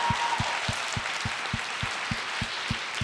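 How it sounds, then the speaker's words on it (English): An audience applauds through a dense wash of hand claps, with a steady low thump pulsing underneath at about three beats per second. "I want to give you a round of applause for that."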